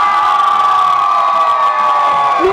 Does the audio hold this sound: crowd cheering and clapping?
yes